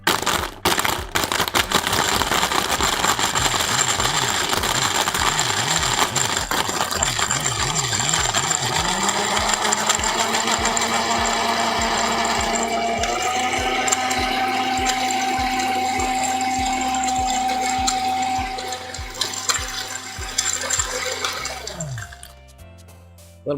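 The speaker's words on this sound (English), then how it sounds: "I think I hear the motor failing." Video game blender motor straining and failing, a sustained churning, watery whir with a pitch that slides and settles into a steady hum before tapering off near the end.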